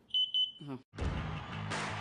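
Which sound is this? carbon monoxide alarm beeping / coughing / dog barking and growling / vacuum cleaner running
carbon monoxide alarm beeping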